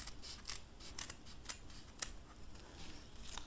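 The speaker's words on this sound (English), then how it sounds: "You're just going to take some scissors and you're just going to cut off that corner." Scissors snipping off the corner of a folded sheet of paper, a quick series of sharp crisp cuts, close and fairly quiet, with a louder final snip near the end.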